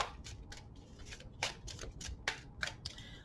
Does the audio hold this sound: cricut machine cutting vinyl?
no